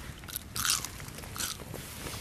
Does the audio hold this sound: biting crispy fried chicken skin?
yes